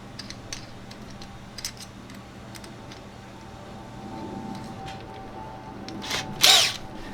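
A power drill whirs steadily at low volume for a few seconds while drilling holes in a vintage camper for an A/C vent, ending in a brief louder burst, with scattered clicks and taps around it.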